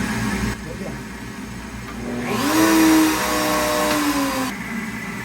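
A router cuts wood over a dust collector box fitted beside a fret slider, its steady motor whine swelling louder in the middle as the bit bites, then settling back to a hum.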